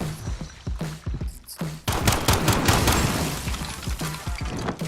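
Gunfire in a competitive video game match: bursts of sharp shots come in rapid clusters, dense and loud, with thuds and impacts mixed in and a commentator talking faintly under it.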